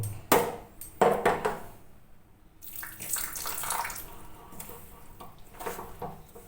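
Water is poured while oats dosa is being made, a close splashing gush following a few sharp kitchen clatters at the start.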